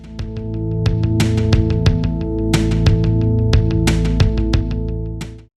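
An old Alesis drum machine plays a steady, punchy programmed beat treated with delay effects, crisp hits repeating and echoing in a tight rhythm, loud and alone.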